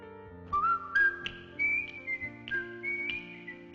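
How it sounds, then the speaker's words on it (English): Whistled melody of The Andy Griffith Show theme, a bright, clear tune of short sliding notes played over a soft instrumental backing, close and prominent throughout. "Andy Griffith's whistling theme song."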